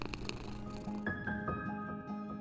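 A pet cat purrs close up in a steady, low rumbling drone, with a few faint tonal sounds layered over it and no talking.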